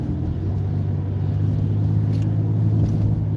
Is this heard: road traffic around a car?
yes